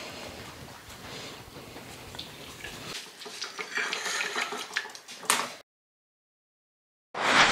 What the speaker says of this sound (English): Pour in the blended sauces and strain it.